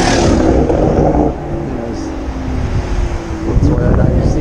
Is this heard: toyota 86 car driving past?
yes